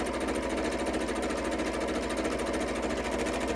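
A sewing machine stitches bunting flags, its motor humming steadily at a close, even, continuous pace throughout.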